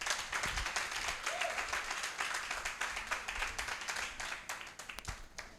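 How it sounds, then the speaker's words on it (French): An audience applauds a singer's performance at a voice-coaching grand final, a dense steady clapping that fills the room then thins toward the end. "je vous prie d'applaudir à nouveau Madame Joliane pour sa prestation"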